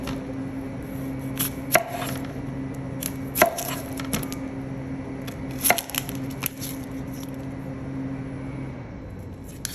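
A knife works through an onion on a cutting board, cutting pieces for vegetable skewers, giving several sharp, distinct chops and taps spread out over a steady low background hum.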